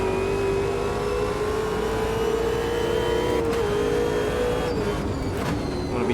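Supercar engine in Automobilista 2 racing at Mount Panorama revs steadily and loudly under acceleration, a sustained rising drone with a brief gear change near the end, heard up close and alone.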